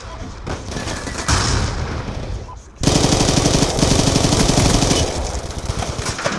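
MSMC submachine gun firing in Black Ops 2, a continuous rapid automatic burst, a short pause near the third second, then heavier sustained full-auto fire to the end, loud and close.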